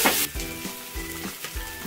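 Chopped onions fry golden brown in a pan for egg bhurji, a steady sizzle broken by a few scraping stirs close by, with no speech.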